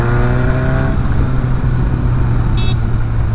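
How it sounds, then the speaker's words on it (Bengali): Motorcycle engine accelerating on the road with the helmet visor down, a steady loud drone of rising harmonics that fades into a continuous rumble and wind roar. "এবার টেস্ট করছি হচ্ছে ভাইজার ডাউন করে।"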